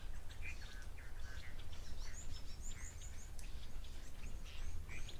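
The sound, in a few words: chinspot batis croaky call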